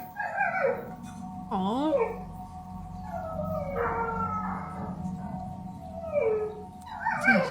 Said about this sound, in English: my dog wouldn't stop barking